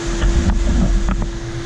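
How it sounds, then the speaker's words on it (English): A dense, steady roar of heavy rain fills the space, constant and loud, with a low rumble underneath. "The rain's still coming down hard if you hear all that noise in the background."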